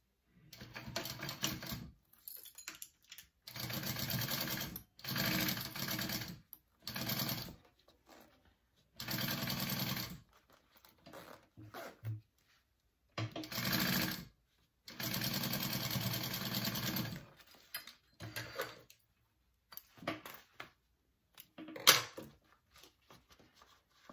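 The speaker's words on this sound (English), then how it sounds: "I'm gonna sew this on at a 1/4 inch seam allowance, just like I did on the other flap." Domestic sewing machine stitching a fabric flap for a crossbody wallet at a quarter-inch seam, loud close bursts of rapid stitching lasting one to three seconds each, separated by short pauses.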